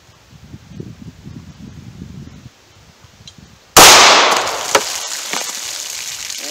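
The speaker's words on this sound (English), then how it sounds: "we'll see if that round fires this time" A 9mm Underwood Maximum Expansion round fires on a second strike with a single loud, sharp report after a few seconds of quiet rustling, then a ringing decay with a few smaller clanks.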